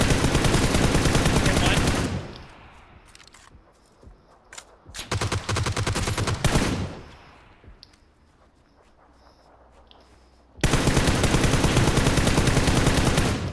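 Gunfire in an online shooter game: dense bursts of rapid automatic shots in loud blocks at the start, in the middle and at the end, with quieter stretches between them.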